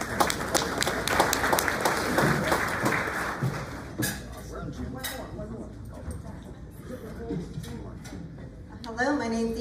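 An audience applauds at a graduation ceremony, a dense clapping burst that fades after a few seconds before a voice begins speaking.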